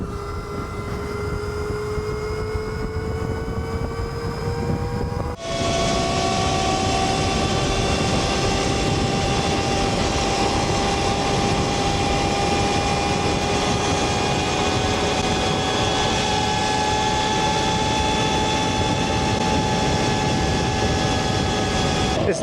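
A motorcycle on supermoto tires rides at speed, with a loud steady engine drone and heavy wind rush that jumps louder partway through and holds constant, with no talking.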